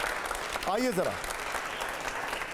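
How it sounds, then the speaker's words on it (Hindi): An audience applauding at a political event, a dense steady clatter of many hands heard fairly softly under a man's short spoken phrase. "पहले जोरदार ताली पहले सवाल से पहले"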